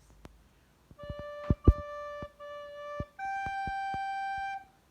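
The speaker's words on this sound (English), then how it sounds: "So remember, first bit of Waltz and William sounds like this." A recorder plays the opening phrase of Waltz and William as a handful of clear, sustained notes, each broken by soft tonguing and key clicks, close and alone without any talk.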